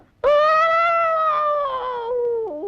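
A single long, wavering howl from a human voice mimicking a dog, sustained for about two seconds before trailing off.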